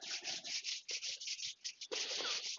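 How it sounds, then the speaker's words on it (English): Palms rubbed briskly together during a Shaolin qigong exercise, a close, steady series of dry brushing strokes with a short pause before the rubbing resumes. "Rubbing the palms together"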